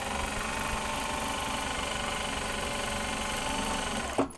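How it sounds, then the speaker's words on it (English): A sewing machine runs steadily, stitching canvas tote bag pieces with black thread, a close, continuous mechanical whir that stops abruptly at the end. "I am sewing these together with black thread for the canvas to the exterior"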